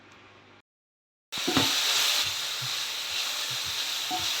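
Chicken masala frying in a pan with turmeric, coriander powder, garam masala and curry leaves, heard as a steady sizzle after a brief silence, broken by light scrapes of stirring and no talk.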